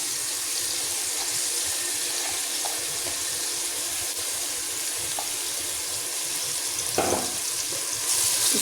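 Cut potatoes frying in a pan with tomatoes in Indian aloo palak cooking, giving a steady close sizzle throughout with a brief louder burst near the end.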